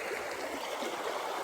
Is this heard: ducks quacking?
no